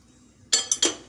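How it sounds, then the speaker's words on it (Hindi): Three quick clinking, clattering knocks in close succession as a pizza is put into a microwave, at close range. "अब हम अपने पिज़्ज़ा को माइक्रोवेव में डाल रहे हैं"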